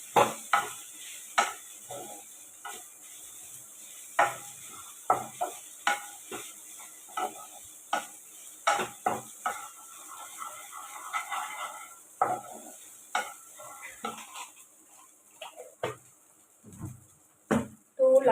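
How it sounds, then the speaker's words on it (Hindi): Poha sautéed in a pan, a spatula scraping and stirring in repeated sharp strokes over a light sizzle, with clinks against the metal pan and no talking. "अब इसको इसकी हेल्प से सौटे कर लेंगे"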